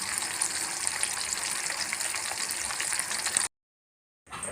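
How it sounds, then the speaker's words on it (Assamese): Borali fish frying in hot oil gives a loud, steady, crackling sizzle that drops out abruptly for about a second near the end, then resumes. "বৰালি মাছ ভাজোঁতে সাৱধান, ইয়াৰ পৰা তেল নিগৰি চিটিকি গাত পৰে"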